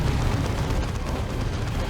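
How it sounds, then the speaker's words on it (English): A turret blown apart in the Warhammer 40k strategy game Dawn of War 2, heard as a dense, loud rumbling explosion roar that sustains without break. "So turret taken out once again."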